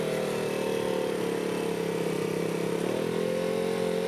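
A motorcycle engine hums steadily at low revs during slow, balanced riding, held with throttle and clutch. The drone is continuous and moderately close, with a brief dip in pitch partway through.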